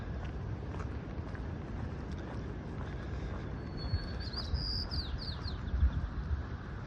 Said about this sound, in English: The birds are singing for me.